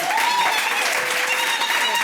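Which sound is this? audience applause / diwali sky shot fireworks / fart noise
audience applause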